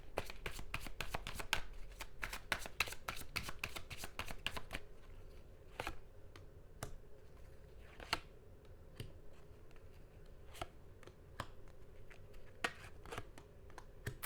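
Tarot cards are shuffled by hand up close, a quick run of crisp riffling snaps at first, then slower scattered flicks and taps spaced over the rest against a quiet background.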